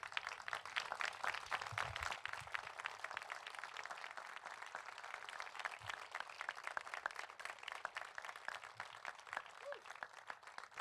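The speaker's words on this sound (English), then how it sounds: "give Mr. Good a big round of applause" A large crowd applauds steadily at an outdoor park grand re-opening ceremony, dense clapping sustained from start to finish at a consistent loud level.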